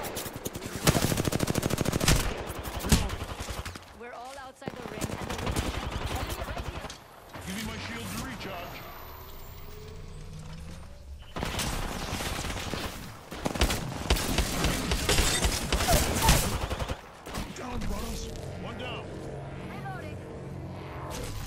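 Gunfire in the video game Apex Legends: repeated bursts of automatic shots come in waves with short lulls, loud and close, under intermittent talk.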